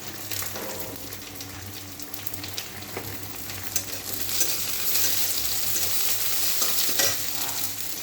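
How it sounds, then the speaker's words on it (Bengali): Jackfruit and prawns being stirred with ghee in a hot pan, a steady close sizzle with repeated scraping stir strokes and small clinks throughout, no voices. "ঘি দিয়ে এটাকে ভালো করে মিশিয়ে নেব।"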